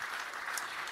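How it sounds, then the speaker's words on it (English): Steady applause from a seated audience at a sports referee foundation panel event, a continuous wash of many hands clapping for a sponsor, distant and soft. "one more time, a round of applause to Tito's for our sponsorship here with this panel"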